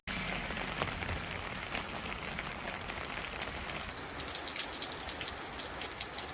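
Rain dripping steadily from the roof eaves of a single-storey courtyard house, a dense even patter of drops landing close by, continuous from start to end with no talking.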